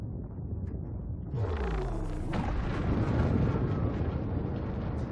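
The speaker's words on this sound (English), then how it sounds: "Little bit of a ripple there on the boost sound." Type-11 Prospector spaceship in Elite Dangerous kicks in its unengineered boost: a steady low engine rumble swells into a loud roaring whoosh with a falling tonal sweep and slight rippling, sustained and alone.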